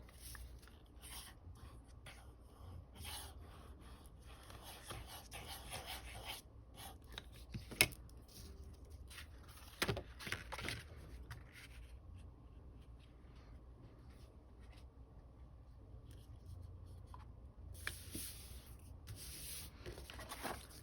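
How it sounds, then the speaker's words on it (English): Decorative paper being rubbed and smoothed down by hand to glue it onto a sleeve, a soft continuous scratchy rubbing with occasional sharper taps and strokes, faint and close, no voices. "So I'm going to glue my decorative paper down."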